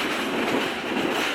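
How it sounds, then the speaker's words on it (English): Vintage diesel locomotives 8255 and 705 of the Adirondack Scenic Railroad rumble past at close range, a steady, dense train roar with faint clickety-clack running throughout, no voices. "There are the locomotives again. 8255 and 705."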